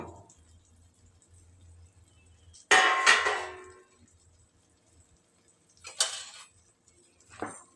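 Metal lid lifted off a cooking pot of boiled rice upma after ten minutes of simmering, giving a loud clanking burst, then two shorter clinks a few seconds apart against a quiet background.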